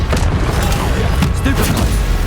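Stupefy spell cast in the video game Hogwarts Legacy, a loud booming magical blast with crackling bursts over dense battle noise, with a voice shouting briefly.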